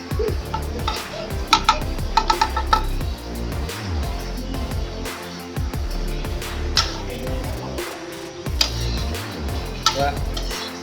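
Unusual bathroom products such as shampoo fry in a pan, giving a steady sizzle with scattered clinks and scrapes of utensils against cookware throughout.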